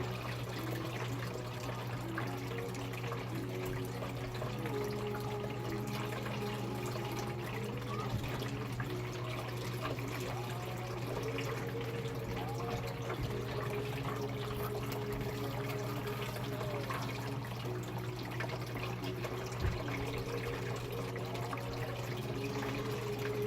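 Water runs steadily through an indoor gold sluice, a continuous low trickling flow under a constant mechanical hum, with faint small splashes and no clear talk.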